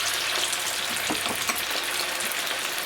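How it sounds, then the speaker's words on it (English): Cauliflower pieces frying in oil for a crispy firecracker dish, a dense steady bubbling sizzle close up with a few soft crackles, no voices. "We need to fry them for about 3 to 4 minutes"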